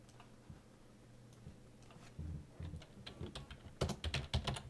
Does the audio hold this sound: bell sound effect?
no